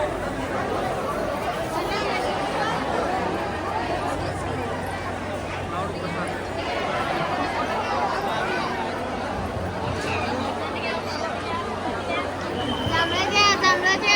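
Dense, steady chatter from a large crowd of devotees fills the grounds of the Balumama temple at Adamapur, many overlapping voices in continuous hubbub with no single speaker standing out.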